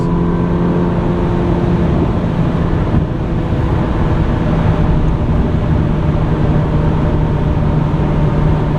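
A 2004 Ferrari 360 Modena with a six-speed gearbox drives on a highway, its engine a steady loud drone with constant road and wind roar throughout, no voices.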